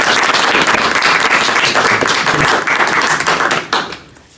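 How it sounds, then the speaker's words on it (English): An audience at a Cartoon Art Museum evening event with comic artist Jeffrey Brown bursts into sustained, dense applause that holds steady before tapering off near the end, with no talking over it. "let's first give him a round of applause"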